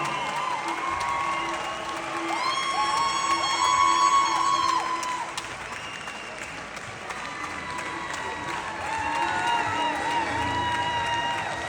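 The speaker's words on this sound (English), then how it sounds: "A big applause for the winner." A crowd at the World Dog Show in Bologna applauds and cheers the winning dog, a sustained moderate wash of clapping with whoops, while a loudspeaker voice and music tones ring over it.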